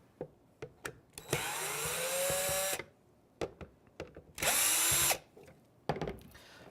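A power driver runs in two sustained whining bursts while backing small screws out of an appliance's middle housing, with clicks and handling taps between the runs, close up.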